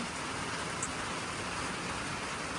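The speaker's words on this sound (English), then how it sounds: "The rain." Steady rain falls around a remote cabin, a continuous dense hiss of drops on surfaces, close and even throughout, with no talking.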